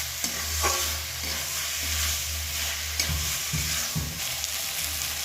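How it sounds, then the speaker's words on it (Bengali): Fried vegetables with pui greens and potato are stirred into a frying pan, a spatula scraping and knocking in repeated strokes over a low steady sizzle, with no voices. "সবজিটা দেওয়ার পরে ভালো করে আমি মিশিয়ে নেব।"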